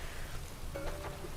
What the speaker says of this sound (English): especially since like it's raining